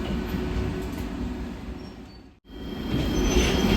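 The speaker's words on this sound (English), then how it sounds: "Now we are going to take a tram to our hotel." A Prague tram rolls along the rails, a steady low rumble with faint wheel squeal and rattling, heard from inside the car, briefly dropping away to near silence before resuming louder.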